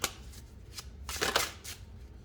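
Tarot cards are shuffled and flipped with several quick papery riffles and slaps in close, quiet succession, alone with no talk.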